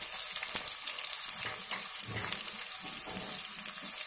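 Chopped onions tossed into hot tempering oil for a matar gobi curry, frying with a continuous close crackling sizzle and a few soft stirring knocks, no voices.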